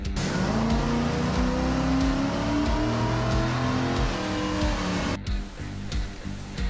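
A Chevrolet Corvette engine drones at Pocono Raceway during a track sprint, a steady loud motor note with rising and falling pitch, then cuts off sharply near the end, leaving quieter rumbling.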